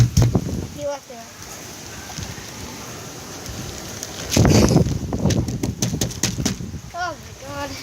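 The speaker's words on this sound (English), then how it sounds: "It's super windy." Strong gusting wind during Hurricane Matthew roars against the microphone with rain noise, surging heavily midway, while a person speaks in short bursts over it.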